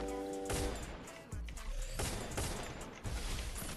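Players fighting in the mobile battle royale game Free Fire trade gunfire in a rapid fusillade of sharp repeated shots, arriving in several bursts at moderate loudness.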